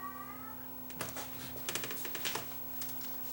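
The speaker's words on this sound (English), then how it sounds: "I have a cat that's howling." An indoor house cat howls in a drawn-out, wavering cry near the start, followed by a run of quick clicking and tapping sounds, all fairly faint with no talking.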